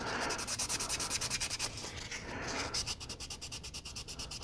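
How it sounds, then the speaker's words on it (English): Sandpaper rubbed quickly back and forth over the mold line of a resin figure kit, a close, soft, raspy scratching in a steady rhythm that eases slightly midway and then picks up again. "if I just do a little sanding, just real quick"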